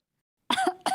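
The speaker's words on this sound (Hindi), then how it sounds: "ये क्या हुआ? काहे खांस रही है?" A woman in a TV comedy scene coughs after a half-second silence, a close, sharp burst followed by a brief pause and a second cough.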